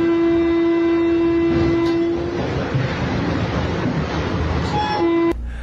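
Vande Bharat train running, with a loud sustained horn blast over the rumble of the train, then a second shorter horn before the sound cuts off abruptly.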